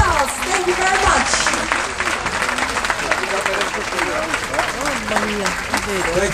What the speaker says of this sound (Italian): May I have a big applause?